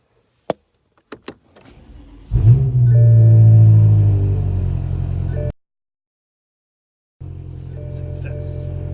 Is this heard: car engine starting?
yes